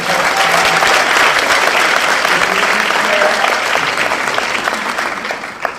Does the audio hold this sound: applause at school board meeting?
yes